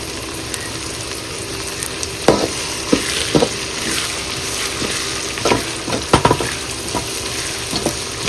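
Chopped tomatoes sizzle in oil with fried onions in a pan for a pepper chicken gravy, a steady close frying hiss broken by the scrapes and clinks of a spoon stirring every second or so.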